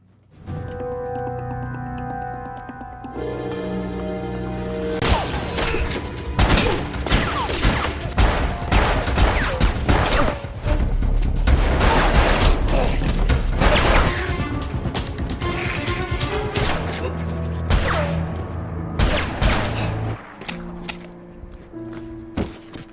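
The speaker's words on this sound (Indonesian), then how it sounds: "Akhirnya, baku tembak pun terjadi." Shootout in the Korean film Hwayi: A Monster Boy: after a quiet musical opening, dense, loud bursts of rapid gunfire and crashing impacts pour out nonstop for about fifteen seconds over a tense score, then ease back into music.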